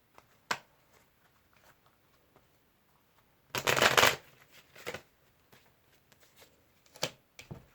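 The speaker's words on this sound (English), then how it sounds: "one more shuffle" Quiet taps and clicks, then a single quick ruffling shuffle of a card deck, followed by light handling sounds.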